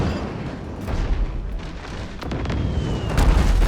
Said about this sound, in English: Oh, they have a mortar.